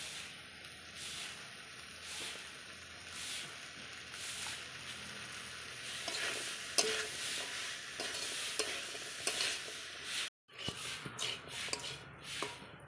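Soybean chunks, potatoes and peas stir-fried with spices in a hot pan sizzle continuously while a spatula scrapes and stirs in repeated strokes, with brief sharper clinks toward the end.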